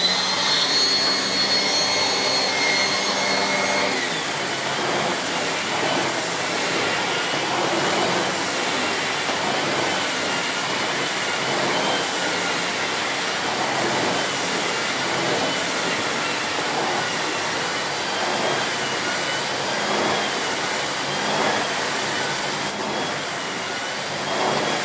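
A Miele C2 Compact vacuum cleaner (2012, S6 Cat and Dog) roars loudly and steadily while pushed back and forth across carpet, its pitch shifting slightly with each stroke and no talk over it.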